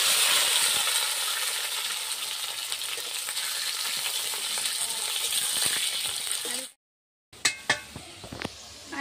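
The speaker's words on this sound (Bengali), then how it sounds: "আলুটা কষে নেব।" Potatoes frying in hot oil beside chicken curry spices: a loud, dense sizzle that runs steadily, cuts out briefly, then returns with a few sharp clanks of stirring.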